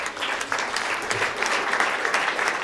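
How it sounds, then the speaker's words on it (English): Audience applause after a talk on the education of equestrian sport officials, steady dense clapping from a sizeable room, fairly close and continuous with no voices over it. "I think a huge round of applause to Frank"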